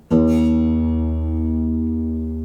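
A single low string on an acoustic guitar struck once, ringing with a rich, sustained tone that slowly fades over a couple of seconds.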